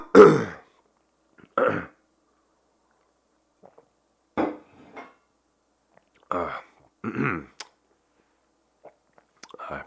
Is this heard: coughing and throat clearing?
yes